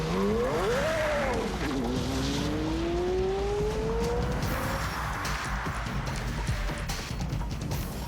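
Porsche Carrera supercar accelerating hard from a standing start on a closed course, engine pitch climbing sharply, dropping at a gear change, then rising again, loud and close.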